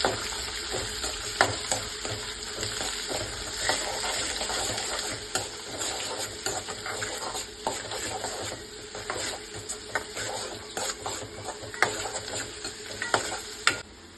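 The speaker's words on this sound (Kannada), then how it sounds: "ಒಂದು 5ರಿಂದ 6 ಸೆಕೆಂಡು ಈರುಳ್ಳಿ ಫ್ರೈ ಮಾಡ್ಕೊಂಡಿದ್ದೀನಿ" Chopped onions sizzle steadily in a hot pan for beetroot palya, with curry leaves and coriander, while a spatula scrapes and stirs in frequent clicks throughout; close and continuous, with no talking.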